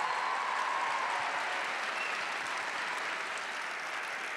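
A large audience at a panel discussion claps continuously, a steady, even roar of applause that holds level throughout without any talking.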